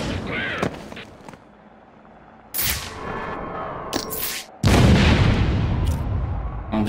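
A grenade detonates in Batman: Arkham Origins with sharp, loud game blasts and gunfire bursts, ending in a big sustained boom that rumbles on, with a voice reacting under the action.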